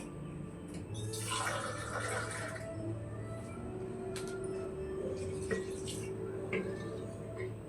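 A small amount of water is poured into a cooking pot for karuvattu kulambu, a dried fish curry, in a home kitchen, making a brief splashing pour early on followed by quieter sloshing and light clinks nearby.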